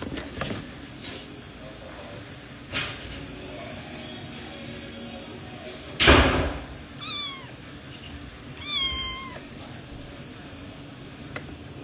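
A cat meows twice in a row indoors, short rising-falling cries a couple of seconds apart, fairly close, following a loud bump and over low room noise.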